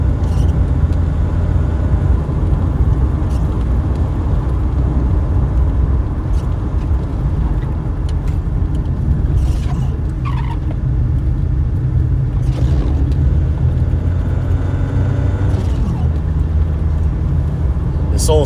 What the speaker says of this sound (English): This old CVT transmission does not sound great right now.